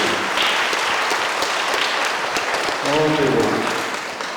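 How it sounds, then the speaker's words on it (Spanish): Congregation applause during a church sermon, a dense steady wash of clapping filling the space, with a brief tonal voice or sound rising over it near the end. "Y un aplauso para Jesús, por favor."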